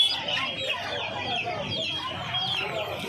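Many Sonali and local desi chicks packed in a cage at the Uluberia hen market, chirping and clucking continuously in a busy, dense chorus with faint crowd noise behind.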